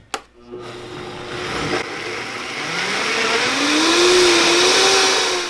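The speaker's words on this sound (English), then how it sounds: "All right, let's go over to the blender." A blender motor whirs loudly and continuously, its pitch rising as it spins up and stays at a steady high roar.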